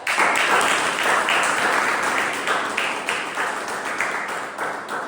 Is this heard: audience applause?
yes